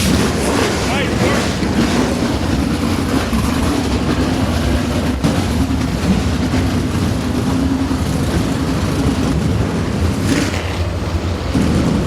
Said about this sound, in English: The engines roar to life on the front straightaway